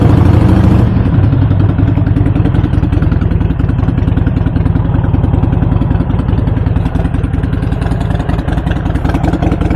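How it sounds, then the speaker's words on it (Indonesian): A Harley-Davidson Sportster 48 cafe-racer-style motorcycle idling up close, its engine a loud, steady low-pitched throb with rapid even firing pulses and mechanical clatter that carries on unbroken, with no voices. "Jadi hari ini kita pakai Sportster 48 kita nih, motor santai, cafe racer"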